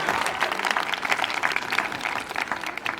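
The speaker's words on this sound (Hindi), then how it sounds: "आपको समझ में आया तो बजाओ ताली एक बार" An audience clapping at a Hindi hasya kavi sammelan comedy poetry show, a dense burst of applause that holds steady for a few seconds, close and loud with a few faint voices underneath.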